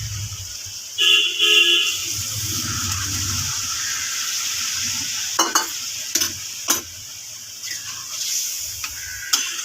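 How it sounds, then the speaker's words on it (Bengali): Hot water goes into a pan of frying chicken curry, setting off a steady hiss and sizzle that runs throughout, with a few sharp metallic clinks of a spoon and a brief car horn outside early on. "গরম জলটা দিয়ে দেবো।"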